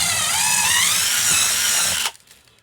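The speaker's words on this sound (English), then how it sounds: "I think I found a bigger drill bit. So anyway, I'm drilling that," A power drill spins a bigger drill bit, making a loud continuous high whir that wavers slightly in pitch for about two seconds and then cuts off abruptly.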